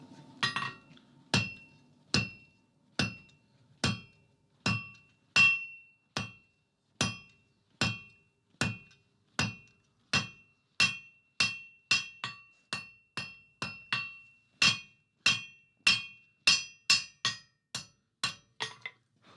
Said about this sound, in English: I'll start forging on the scroll first and then move on to the ring.